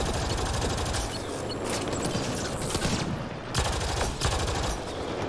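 Heavy automatic gunfire in a Mass Effect Andromeda multiplayer match, a loud, rapid stream of shots trading back and forth, with only brief lulls between bursts.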